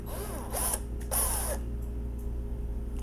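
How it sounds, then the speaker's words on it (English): Small drill bit boring a screw hole during a wheel swap on a '55 gasser, two short whining bursts of the drill over a steady background hum, close and moderately loud. "use the small drill bit again"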